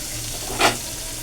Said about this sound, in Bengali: অল্প পরিমাণে জল দিলাম এর মধ্যে